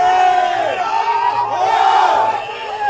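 A large crowd of St. Joseph's College schoolboy rugby supporters chanting loudly and steadily at a schools rugby league match, a dense roar of massed voices with sustained rhythmic calls.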